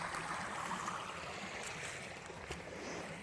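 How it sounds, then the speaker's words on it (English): River water flowing along a Florida wilderness trail, a faint, steady rushing and trickling murmur heard from a short distance, with no voices. "Probably about the most flowing water you'll hear here in Florida."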